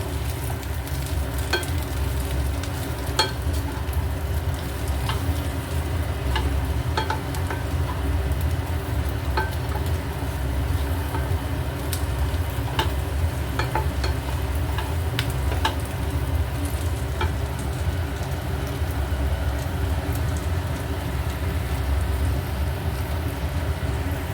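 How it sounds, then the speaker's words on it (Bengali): Chilli chicken stirred and frying in a pan, a steady sizzle running throughout with occasional clicks of a utensil scraping the pan, close and fairly loud with no talk over it. "অল্প একটুখানি দেব দিয়ে ভালো করে নেড়ে নিয়ে তারপর সসটা অ্যাড করবো"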